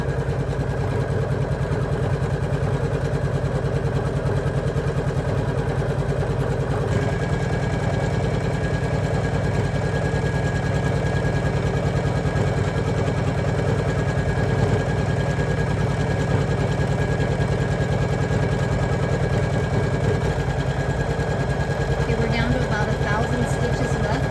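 A Poolin 06 embroidery machine stitching a bucket fishing hat hums in a steady, continuous mechanical drone with a fast, even rhythm, loud and close, running unbroken throughout with no talking.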